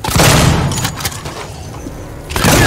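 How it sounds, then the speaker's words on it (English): A shotgun goes off in the Alien Isolation video game, with a loud, close blast at the start, a quieter stretch of rumbling, and another heavy boom right at the end. "Shotgun it is."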